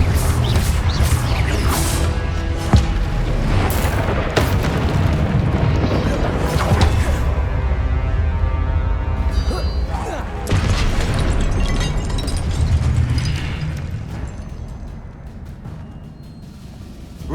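A Confringo spell explosion in the video game Hogwarts Legacy booms loudly amid continuous combat effects and music-like rumble, sustained and dense for most of the stretch before fading slightly near the end.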